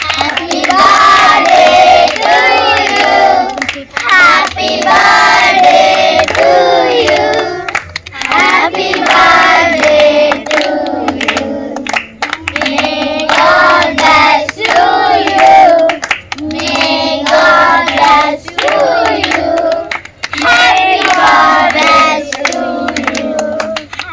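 A crowd of children claps and cheers at a birthday cake-cutting for a teacher. Their loud, sustained hand-clapping and shouting voices mix with chant-like singing throughout.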